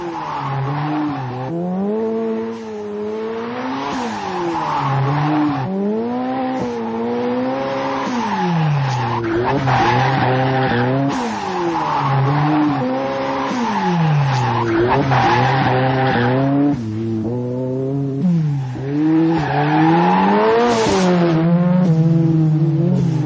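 A car drifts through a corner in a long skid, with loud, continuous tire squeal wavering in pitch over a revving engine, close and sustained throughout.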